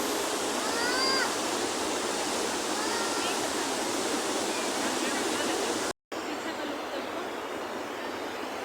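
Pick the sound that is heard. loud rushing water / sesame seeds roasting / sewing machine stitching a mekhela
loud rushing water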